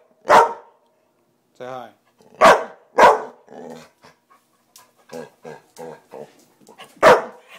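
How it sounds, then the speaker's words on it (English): A dog barks loudly several times in sharp bursts, close by, with a person speaking briefly between the barks. "No more barking. Stop barking."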